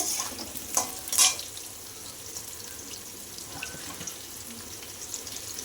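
Papaya and potato pieces sizzling in a pan, a steady close crackle with a couple of sharp scraping stirs near the start, no talking.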